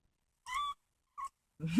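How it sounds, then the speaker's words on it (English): A kitten meowing close by, giving three short, thin calls separated by brief silences. "It meowed."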